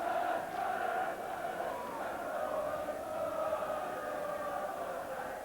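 A football crowd in a stadium at Sunderland v Liverpool chants "you only sing when you're losing," a distant, sustained mass of voices in a steady rising-and-falling melody.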